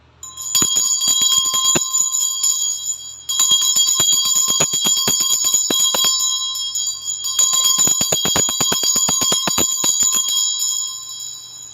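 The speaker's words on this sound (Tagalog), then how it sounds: "i-ring ko lang ang bell to cleanse the energy bago tayo magsimula." A small metal bell is rung repeatedly before a tarot reading, bright ringing strikes in three quick bursts with sustained shimmering overtones, loud and close with no talking.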